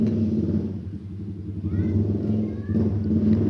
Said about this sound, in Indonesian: motor ini mempunyai keluhan berisik ya di mesinnya, ada suara krek gitu